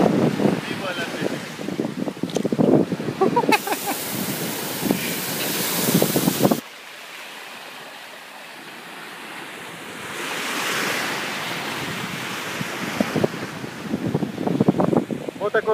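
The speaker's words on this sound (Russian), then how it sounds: "Вот такой у нас некрасивый пляж." Ocean waves wash onto a beach in Mexico in loud, rolling surges, broken by a roar of wind buffeting the microphone, with a quieter lull before the surf builds and crashes again.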